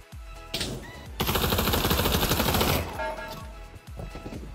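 Rapid automatic gunfire in the VR shooter Pavlov, a sustained loud burst of closely spaced shots after a few single reports, with scattered shots trailing off at the end and no talking.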